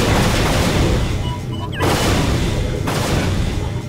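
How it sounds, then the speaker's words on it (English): A weapon fired into a wall in the Unreal video game, a loud, sustained roaring blast with a brief dip, then continuing, dense and close. "Fire the other one into the wall."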